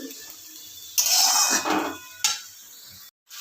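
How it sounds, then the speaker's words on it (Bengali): Radish greens (mulo shaak) stirred in a pan, a few close scraping and clinking strokes of a utensil against metal with short quiet gaps between them. "এবার আমি একটু নাড়িয়ে চাড়িয়ে নেব"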